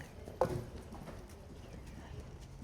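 A horse canters during a jumping lesson over skinny fences ahead of cross-country, its hoofbeats soft and somewhat distant with one sharper thud.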